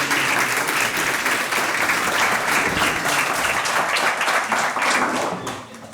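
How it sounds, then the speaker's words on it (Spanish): A crowd applauds steadily at an informational breakfast event for International Childhood Cancer Day, dense sustained clapping from a large audience that holds loud for about five seconds before tapering slightly at the end. "Un aplauso, por favor."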